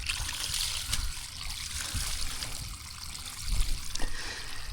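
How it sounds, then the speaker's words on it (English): Steady running water splashes and trickles through a used oil filter during rinsing, a continuous close wash with small surges and drips. "turn off the water real quick"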